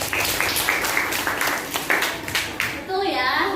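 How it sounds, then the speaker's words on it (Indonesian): Students in a classroom applaud a classmate, quick rhythmic claps in a loose burst, with a voice and chatter mixed in over the clapping. "Bisa tepuk tangan untuk Ajab."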